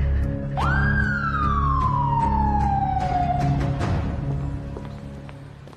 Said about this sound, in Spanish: Una ambulancia.